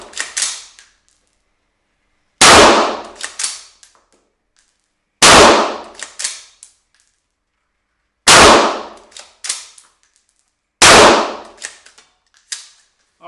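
A Schmeisser Ultramatch 20 straight-pull AR-15 in .223 firing five sharp, loud, evenly spaced cracks, each followed by a brief clatter of the action and silence between shots.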